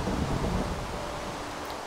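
Rain and thunder from a Minecraft storm, a broad steady wash with low rumble that eases slightly over two seconds, moderately loud with no one talking.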